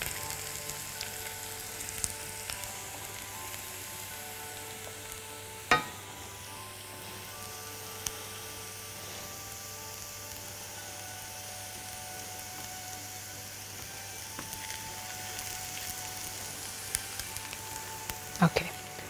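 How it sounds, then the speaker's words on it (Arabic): Onions fry in a pan for the sauce of a Dawood Basha kofta dish, making a soft, continuous sizzle punctuated by a few sharp clicks and taps of stirring. "انا بس عايزة البصل يتحمر حاجة بسيطة"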